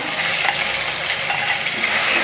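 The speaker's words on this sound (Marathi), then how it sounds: "आता कांदा छान गुलाबी रंगावर परतून घ्यायचा अगोदर।" Onion paste with ginger and garlic sautés in oil for a dhaba-style cashew curry, giving a loud, steady, close sizzle with light stirring.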